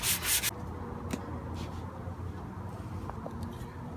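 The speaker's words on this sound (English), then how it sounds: "Andrew's gone in with a finer grit, like 120. Yep. And he's just sanding things down again." A short burst of friction opens, then steady soft rubbing continues as 120-grit sandpaper works over an antique wooden chair, fairly close and even in level.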